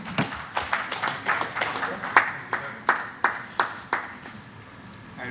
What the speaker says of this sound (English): Let's applaud for Mr. Sheshadri Mukundan.